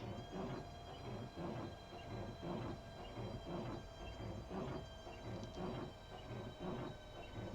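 A high-speed electric train in a train simulator game rolls into a platform on the London–Faversham line, giving a steady, loud rumble with rhythmic clatter from the wheels and a high, whining motor tone that holds throughout.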